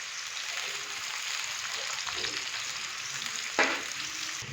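Finely chopped onions fry in ghee with a soft, even sizzle, moderately quiet, with one brief louder scrape or stir near the end.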